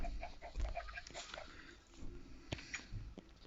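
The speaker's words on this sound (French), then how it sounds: "Vous avez les poulets là. Il y en a beaucoup." Chickens clucking on a farm in a video game, a flock of fowl giving short repeated clucks and calls at moderate distance over a steady game background.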